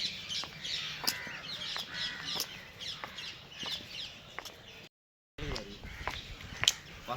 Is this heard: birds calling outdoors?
yes